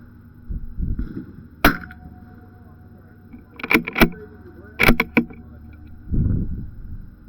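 Arrows strike a target outdoors in a series of sharp, short impacts, several in quick pairs, with brief quiet gaps and some low rustling between shots.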